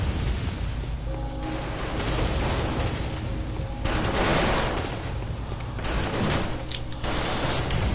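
Enemy gunfire in Bloodborne: repeated heavy shots and booming blasts over a dense rumbling game soundscape, loud and continuous with sharper bursts throughout.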